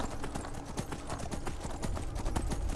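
Horses trot steadily in the video game Skyrim, a continuous rhythmic clip-clop of hooves at moderate volume, close and without talk.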